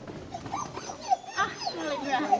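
A dog whimpers and yips in short bursts while a person talks nearby, during dog agility training as it is sent into a tunnel.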